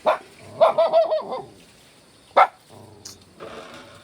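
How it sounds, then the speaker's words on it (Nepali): A dog barks several times, a quick burst of yaps followed by a single loud bark, fairly close with quiet gaps between. "कुकुर रे"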